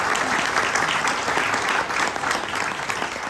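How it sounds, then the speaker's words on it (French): An audience at a professional media conference applauds: dense, steady clapping from many hands, fairly close and sustained throughout with no talk over it. "Je vous propose de les applaudir déjà."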